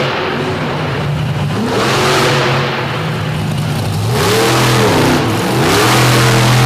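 The Redneck Rampage monster truck's engine roars loudly at a MOD DuQuoin, Illinois show, revving up and down in repeated surges with pitch sweeps over crowd and arena noise, and no clear speech on top.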